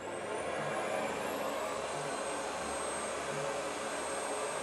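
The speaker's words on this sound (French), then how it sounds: "j'allume maintenant l'aspirateur puissance max" Vacuum cleaner running at maximum power in a home, a loud steady whooshing roar with a high whine on top, constant throughout with no voices.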